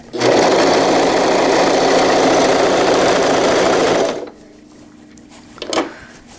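A sewing machine stitches a zippered wetbag in a loud, rapid, continuous run for about four seconds, then stops, leaving quiet handling noises and a short clunk.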